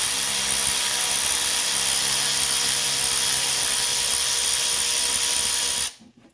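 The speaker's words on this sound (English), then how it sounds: "And we'll spin that all the way out so it'll drop the compressor down lower." A power tool whirs steadily and loudly as it spins out the AC compressor adjustment nut on a 1985 station wagon, holding one constant drone for about six seconds before cutting off abruptly.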